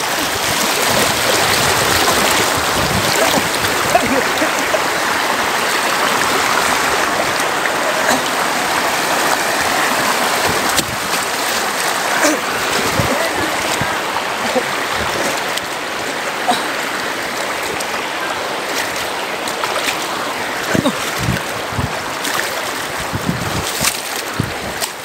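Strong river current rushing steadily, a loud, continuous broadband wash of flowing water with turbulent splashing texture and no voices, holding at even intensity throughout.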